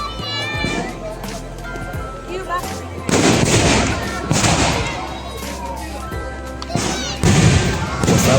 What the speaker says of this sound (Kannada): ಬಾನಿನಲ್ಲಿ ಎಷ್ಟು ಸುಂದರವಾಗಿ ಪಟಾಕಿಗಳ ಚಿತ್ತಾರ ಬರ್ತಾ ಇದೆ